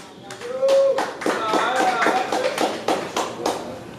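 Live talk show audience claps in a steady burst of applause, a run of sharp, fairly close hand claps lasting several seconds with a voice briefly audible underneath.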